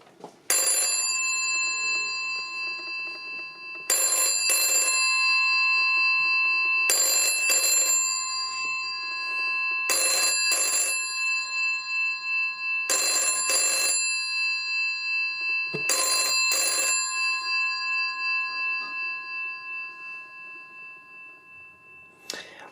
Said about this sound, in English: Now I'll set off the nice bells. These are classic.